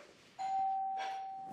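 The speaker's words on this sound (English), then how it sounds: "The doorbell rang and he didn't move." A single electronic doorbell chime rings out clearly, a sustained two-tone ding-dong in a quiet room, with a faint click at the end.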